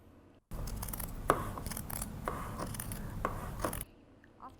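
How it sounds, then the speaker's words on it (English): Sharp scissors labour through the tough selvage of a strong coat fabric, a series of close, crunchy snips and rasping cuts lasting about three seconds, with near silence on either side. "It's pretty hard to cut the selvage."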